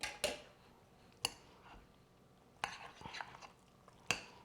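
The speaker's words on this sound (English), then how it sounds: "And I'm going to stir that together at this point" Spoon stirring cumin into a party dip in a bowl, heard as a few sharp scrapes and clinks against the dish with quiet, soft mixing between them.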